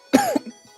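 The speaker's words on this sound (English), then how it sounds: "I'm already coughing." A single short, rough cough, close and fairly loud, followed by a faint throaty trailing sound.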